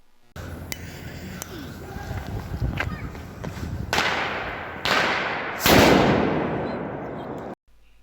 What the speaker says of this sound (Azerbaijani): Zenga'nın pod orijinalı da yaxşı partladı